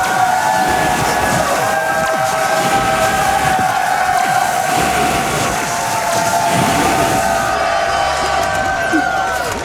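Huge live-event crowd at a Summer Games Done Quick speedrun marathon in Minneapolis, cheering and roaring loudly in a sustained wall of noise with a few shouts standing out.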